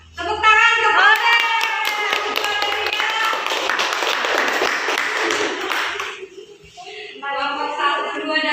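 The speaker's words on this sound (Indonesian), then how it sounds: "Tepuk tangan kepada" A classroom of students bursts into clapping for presenting groups, a busy patter of many hands lasting several seconds, mixed with children's voices and chatter before and after.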